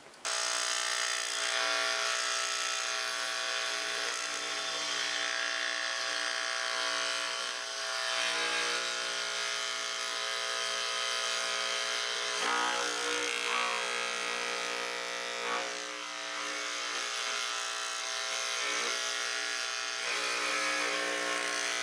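A radial arm saw fitted with a jigsaw attachment cuts a curve to the line, giving a continuous, loud, buzzing reciprocating whine that holds steady throughout with slight dips in intensity.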